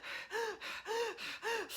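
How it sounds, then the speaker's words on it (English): A person breathes rapidly and shallowly through the chest, with about seven quick alternating inhales and exhales in a steady rhythm, close and fairly quiet, with no talking. "Put your hands on your chest and let's breathe really fast together"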